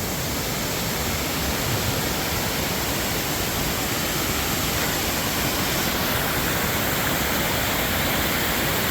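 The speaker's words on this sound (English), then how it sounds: "that's a pretty nice looking waterfall" A constant, loud rush of falling water roars without pause, broad and hissing, like a waterfall heard up close.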